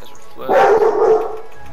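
Dog barking and yelping in World of Warcraft 2v2 arena combat, a burst of a few game-sound barks and whines lasting under a second, mid-loud over steady background game noise.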